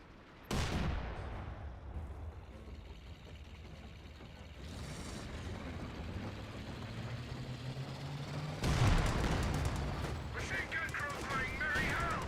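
Tank and machine gun fire in Company of Heroes 2, a dense clatter of automatic shots over a rumbling battlefield, with a heavy cannon blast near the end and louder crackling fire after it.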